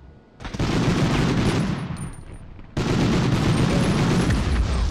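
Heavy, loud gunfire rages in a Medal of Honor mission at the Rjukan hydro plant, with a sustained automatic fusillade that drops off briefly midway and then resumes.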